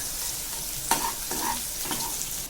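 Sliced onions and green chilies sizzle in hot oil in a pan, with soft scraping stirs cutting through the steady frying hiss.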